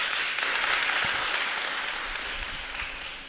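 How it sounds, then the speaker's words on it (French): Audience applause at a French television broadcast, a dense, steady wash of many hands clapping that holds loud throughout and eases slightly toward the end, with no talk over it. "Monsieur Michel, est-ce qu'on peut applaudir Monsieur Michel?"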